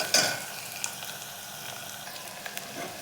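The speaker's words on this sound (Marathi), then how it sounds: "आता आपण टाकूया लसूण आणि खोबऱ्याची पेस्ट आणि छान तेलामध्ये घेऊयात परतून" Garlic and coconut paste sautéing in hot oil with onion, a steady soft sizzle with a brief louder spatter at the start when the paste hits the pan, then a low continuous frying hiss.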